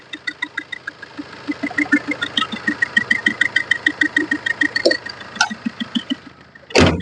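Tata Manza Quadrajet diesel engine idling under an open hood, a close, steady rhythmic ticking clatter with regular pulses, ending in a sharp louder burst.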